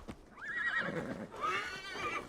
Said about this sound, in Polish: Chodź tutaj, koniu.